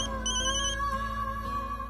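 A mobile phone ringtone plays as a steady electronic melody of repeating tonal notes, clear and continuous for two seconds with no speech over it.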